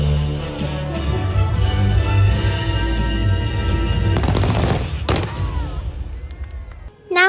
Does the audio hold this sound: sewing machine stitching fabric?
no